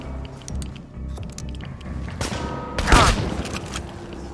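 A shotgun is fired point blank in the video game Chernobylite: two sharp blasts, the second louder and ringing out, amid scuffling and clanking game sounds.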